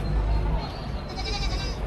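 Goats bleat amid a steady murmur of crowd noise at a livestock auction in Padre Garcia, Batangas; the calls are close and continuous, with faint talking underneath.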